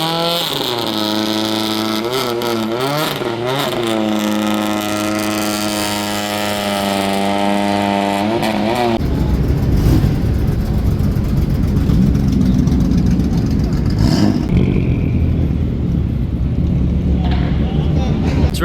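Cars revving engines at the Wekfest Japan car show, a loud engine with rising and falling harmonic revs for several seconds, then giving way to a broad rumbling roar of engines and crowd noise.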